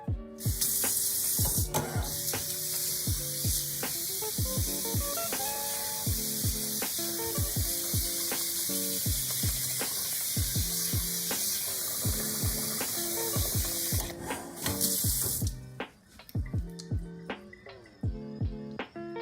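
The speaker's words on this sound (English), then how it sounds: "I'm gonna go ahead and fill up my pot with cold water." Cold tap water runs into a cooking pot in a home kitchen, a steady hissing stream that fills the pot, with melodic background tones playing underneath throughout and a brief pause near the end.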